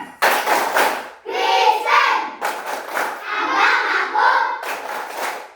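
Children in a classroom perform a rhythmic Christian clapping chant, sharp bursts of group claps alternating with loud chanted, shouted phrases in unison, repeating in a steady pattern.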